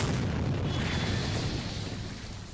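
A loud, sustained explosion rumble from the anime Frieren, a dense roar filling the clip and slowly fading toward the end, with no talk over it.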